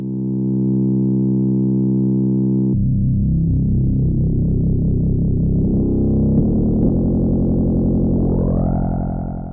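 Loud FM synthesizer tone from a u-he Bazille, first a steady buzzing drone, then shifting into a clangorous, metallic inharmonic timbre that sweeps upward toward the end.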